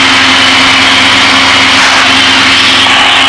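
A Piper aircraft's four-cylinder horizontally opposed engine drones loud and steady in the cockpit during cruise at 8000 feet, a constant hum with no talking.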